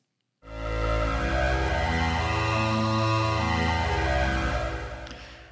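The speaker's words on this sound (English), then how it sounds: "So at the moment, it's just using the inbuilt synthesizer. That's what we're hearing." A vocoder's built-in synthesizer sounds MIDI notes as a dense, buzzy sustained chord that starts abruptly, holds steady and loud for several seconds, then begins to fade.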